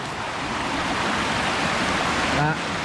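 Davies Creek water rushes steadily over rocks at a swimming hole beside a rock art site, a loud constant close wash that fills the scene, with a brief voice at the end.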